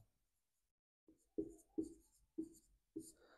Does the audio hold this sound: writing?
yes